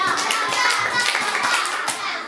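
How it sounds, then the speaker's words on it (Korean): Young children at a Sunday school worship service clap their hands together in a loud, close burst, with children's voices mixed in. "박수 다섯 번 이렇게 치는 거지"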